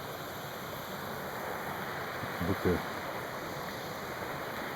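A river flows steadily at a riverside in a nature setting, a constant broadband rush of moving water heard close and even throughout, with a brief soft voice murmuring briefly partway through.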